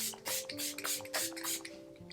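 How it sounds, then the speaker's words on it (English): Quiet bursts of setting spray mist onto a made-up face, about six short hissing pumps in a close, soft rhythm over faint background music tones. "let's finish with a setting spray"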